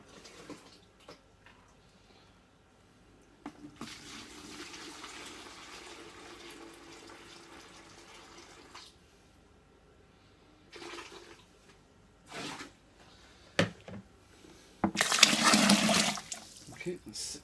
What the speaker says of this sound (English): what we're going to do now is add the water, which is 6 litres